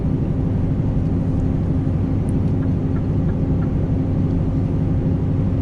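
A Scania truck engine drones loud and steady at close range on an Irish road, a constant low rumble with no clear break or change marking the downshift to 10th gear.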